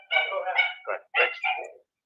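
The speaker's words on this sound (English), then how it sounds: "And hear Dieter barking" A dog barks several times in quick succession, close and clear, with short pauses between the barks.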